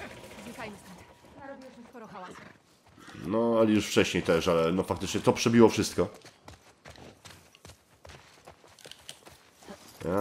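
A horse in The Last of Us Part II game, its hooves clip-clopping in a rapid rhythm with a neigh-like burst, mixed under close, lively talk from people playing.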